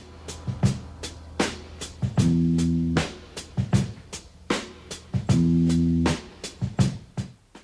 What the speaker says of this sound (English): there's a drum break at the beginning of this song that was sampled all over the place